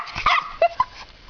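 A dog gives a few short, sharp yips and barks close by, with a brief whimpering edge between them.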